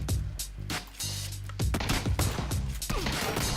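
Rapid bursts of gunfire from the battle royale video game PUBG, loud and dense with several sharp shots and impacts in quick succession, mixed with game effects and no speech.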